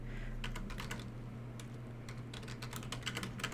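Quick taps on a computer keyboard with mouse clicks, close and fairly quiet over a low steady hum, in irregular bursts of keystrokes.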